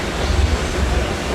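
Close, loud rumble of a passing Disneyland train, dense clattering of wheels on track filling a short burst with no voices.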